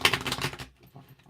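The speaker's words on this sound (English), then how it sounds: "I now can't shuffle this deck" A deck of tarot cards is shuffled in a quick, crisp flurry of riffling clicks, close and brief, ending abruptly into near quiet with a few faint taps.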